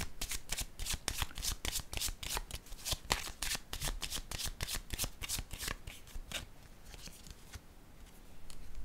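Tarot cards are shuffled close by, giving a run of quick, crisp riffling and slapping bursts in an irregular rhythm, fading toward the end, with no talk.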